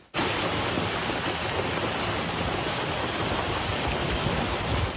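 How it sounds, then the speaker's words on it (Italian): Floodwater surges down town streets and cascades over stone stairways after a violent storm in Valdobbiadene, a loud, dense, unbroken roar of rushing water that fills the whole span at a constant level. "impressionante la forza dell'acqua che scorre lungo le strade del centro e scende come cascate dalle scalinate"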